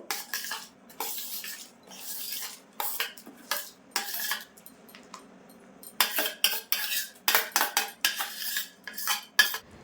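Ghee-coated rice is tipped and stirred into milk in a metal pan, giving a busy run of close clinking and scraping strokes from a spoon against the pan, in irregular bursts with short pauses and no talk.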